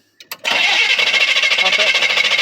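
A 1978 Chevy K20 pickup's 400 cubic-inch small-block V8 cranks with a couple of short bursts, then catches and settles into a loud, steady, slightly pulsing run close to the microphone.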